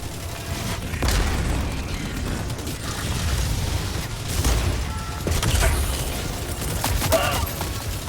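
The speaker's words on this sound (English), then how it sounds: "Throwing grenade!" Grenade blasts in the video game Helldivers 2 during a solo mission against Automaton robots: several heavy booms erupt over a continuous rumble of battle noise and gunfire.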